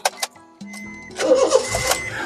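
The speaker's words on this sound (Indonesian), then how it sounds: "Sekarang kita coba start mobil ya." A 2015 Honda Brio 1.2 E automatic starts up: a few short electronic beeps and a brief tone, then the starter cranks and the engine catches into a steady running hum, close by.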